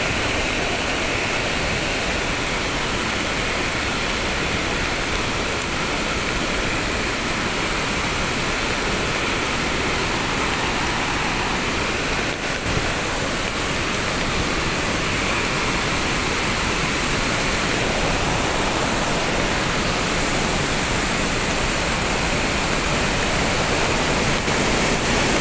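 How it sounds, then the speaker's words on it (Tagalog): Powerful rushing water roars steadily and loudly at Wawa Dam after heavy rain, a dense continuous torrent pouring over the dam. "Ayan, nakita nyo kung gaano kalakas yung tubig."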